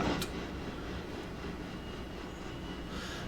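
Railroad cars roll steadily along the rails in a continuous, fairly loud rumble with a brief higher squeal near the start, no voices.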